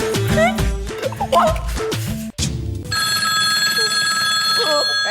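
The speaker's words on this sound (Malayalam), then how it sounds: "ഫോൺ എടുക്കടാ." A busy burst of music gives way to a steady electronic telephone ring that repeats its tone for several seconds.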